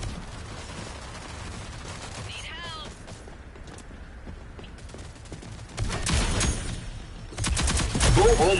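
Video game gunfire bursts out in rapid volleys, loudest near the end, mixed with mechanical clatter and game effects while a player talks over the action.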